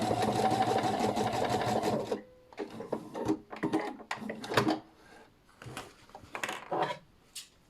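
Pfaff Quilt Expression 720 sewing machine running a steady burst of rapid stitching for about two seconds as it sews a ribbon stitch, followed by quieter clicks and handling sounds.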